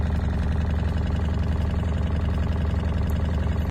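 A steady, loud car engine that is knocking and running rough at idle, with a dense, rhythmic pulsing throughout, cutting off abruptly at the very end.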